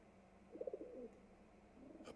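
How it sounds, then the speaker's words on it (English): A single soft pigeon-like coo, a short warbling burst lasting about half a second, rises faintly over a quiet background hiss in an anime. "A bird?"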